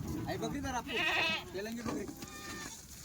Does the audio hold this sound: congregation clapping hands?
no